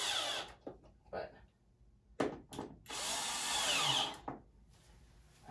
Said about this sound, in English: So much faster with the drill.